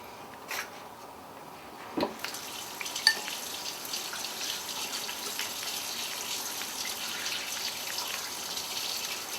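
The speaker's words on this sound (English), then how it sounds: "While I wash my hands?" Kitchen tap running water while hands are washed at the sink, a soft steady splashing rush after a few light knocks and clatters, fairly quiet and close with no talking.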